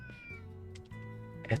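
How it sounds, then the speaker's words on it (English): A small cat meows in the video game The Legend of Heroes: Trails Through Daybreak, a couple of short meows over steady in-game background music, fairly close and clear. "Oh, there's a little cat over there."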